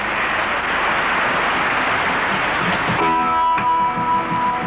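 Steady rain pours over an outdoor festival arena before a rock concert, a dense continuous hiss filling the scene, with faint tonal hum and soft sound-check noises emerging in the latter part.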